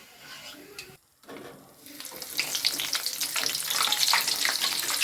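Peanuts fry in a pan for vada pav, starting from a quiet hiss with a brief silence, then swelling into loud, dense crackling and sizzling that keeps building to the end.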